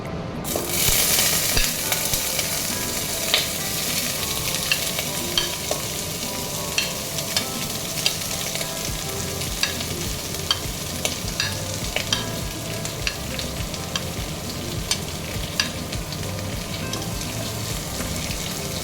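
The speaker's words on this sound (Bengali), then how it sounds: "এবার গরম মশলা থেকে একটা সুন্দর গন্ধ বেরোনো শুরু করবে, তারপর আমি এর মধ্যে দিয়ে দেবো আমার কাটা পেঁয়াজগুলো।" Thinly sliced onions fry in oil with garam masala, sizzling continuously up close while a spoon scrapes and stirs, making frequent sharp clicks and scrapes against the pan; no speech.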